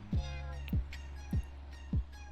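Pocket the cat in Boyfriend Dungeon meows four times, the calls clear, close and evenly spaced over a low steady game background.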